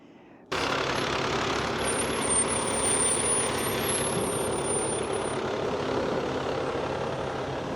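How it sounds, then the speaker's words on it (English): A dump truck engine runs steadily and loud close by, a continuous heavy rumble that starts abruptly and holds without breaks, brought in to move dirt. "We figured the best way to move dirt is to go ahead and bring in a dump truck."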